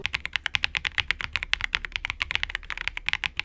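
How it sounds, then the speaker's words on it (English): Someone types quickly on a Redragon K719 Artemis Pro budget keyboard, a close, crisp run of clacking keystrokes in an even, rapid rhythm with no talk. "That is not a bad sounding keyboard, and it's a budget keyboard as well."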